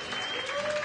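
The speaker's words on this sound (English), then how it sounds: "Let's have a round of applause." Under a second of steady clapping from an audience aboard the newly inaugurated Dorothy Day Staten Island ferry, moderately loud with background murmur.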